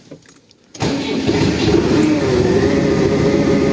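A tractor engine cranks and catches in frost at -10°C, a brief quiet rattle before it fires into a loud, steady rumbling idle that runs on close by without speech.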